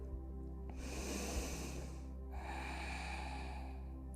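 Deep, audible breaths taken during a vinyasa flow yoga session, two long airy inhalations drawn through the nose, close and steady over a low background hum, with no talking.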